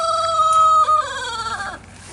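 A guard rooster on a backyard farm gives a loud, drawn-out crow with a strong, sustained tone that wavers and breaks near the end, heard up close with no one speaking.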